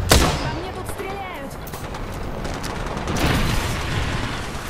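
Apex Legends gunfire opens with a loud shot, then rapid bursts and booms continue throughout under a voice, with a fresh flurry of shots near the end.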